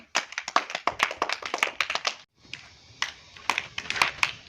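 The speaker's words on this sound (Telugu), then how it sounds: "క్లాప్ చేయండి." Hands clapping in a burst of quick, close, sharp claps, a brief pause, then a few more scattered claps, loud and clear with no talk over them.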